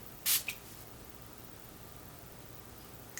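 A single short spritz of makeup setting spray from a spray bottle, close and crisp, followed by a faint tick, then quiet.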